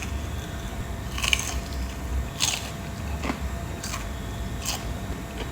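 Crisp bites into honey-glazed fried banana, made from very ripe pisang raja, give several separate crunchy snaps spread out over a few seconds, close and clear against a quiet background, with no talking.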